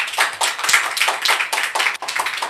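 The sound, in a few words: audience clapping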